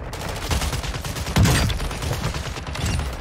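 Rapid bursts of gunfire from the video game Call of Duty Warzone, a dense, continuous volley of shots with a louder burst midway, alone with no talking.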